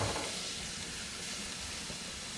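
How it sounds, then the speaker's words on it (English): Continuous hissing sizzle of steaks and foil-wrapped zucchini on a hot grill, steady and close, with no voices. "Ooh, that's sizzle."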